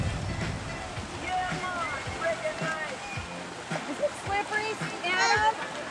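Small waterfall on the Lake Superior shore at Keweenaw Bay, a steady rush of splashing water with sloshing close by, under talk from adults and children.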